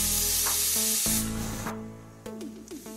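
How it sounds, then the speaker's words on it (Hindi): Pressure cooker with daliya (broken wheat) and water on a medium flame, its whistle giving a loud hissing burst of steam that fades, with some clatter of a kitchen in the background. "जब तक हमारे प्रेशर कुकर की सीटियां आ रही है"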